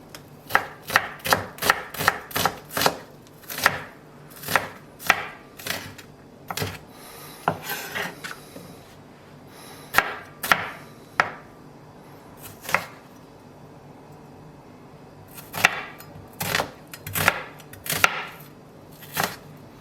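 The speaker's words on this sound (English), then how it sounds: "And you want to chop the onion pretty finely." A knife chops a small onion finely on a board in quick bursts of crisp, close taps, broken by short pauses and a few softer scraping strokes.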